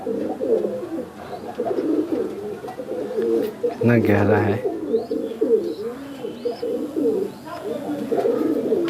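Andhra and Fulsira breed pigeons coo steadily in a low, throaty drone. A person speaks briefly over the birds, and a few faint chirps are scattered on top.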